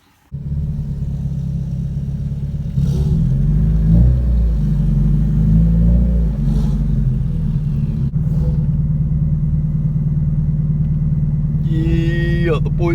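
A Nissan S14 pulls away with a loud, deep engine drone that steps up in level and holds steady, heard close, with brief talk partway through.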